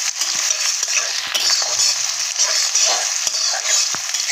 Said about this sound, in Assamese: এতিয়া পিঁয়াজখিনি অলপ ভালকৈ ভাজি ল'ম।